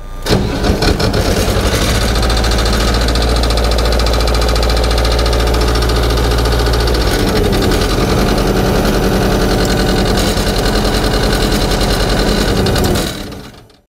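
Diesel engine of a military weapons loader for a B-1 bomber starting with the throttle set near halfway, cranking and catching into a loud, rough, close idle that runs steadily before cutting off.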